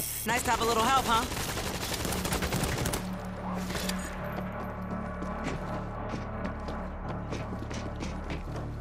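An automated turret in the World War Z Aftermath zombie shooter, set up in a New York tunnel, fires rapid bursts of gunfire that start loud and then continue as quicker, thinner cracks under game noise and some voices.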